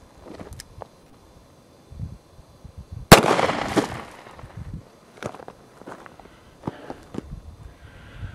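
A single sharp shot from a 2-inch snubnose revolver fired single action at a range rings out once midway, loud and near, with a short echoing tail, amid quiet background shuffling and faint footstep-like sounds.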